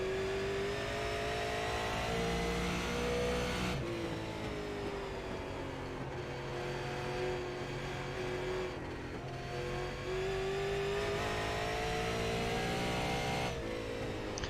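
NASCAR race cars roaring around the track in a 50-lap race, a continuous loud engine drone with shifting pitch as packs of cars rev and pass, no voices over it.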